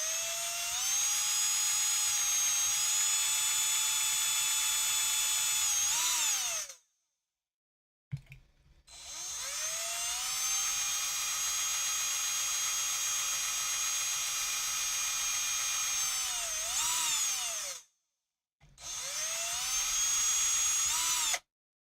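A small high-pitched drill with a tiny bit whines in three long bursts separated by short silences, each run winding down in pitch as it stops, while customizing a Hot Wheels die-cast car.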